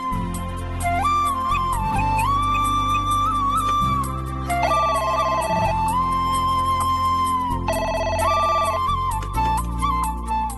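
A telephone ringtone plays steadily for about ten seconds in a Tamil TV drama scene, its bright repeating melodic tone holding loud over a backing music bed with no voices.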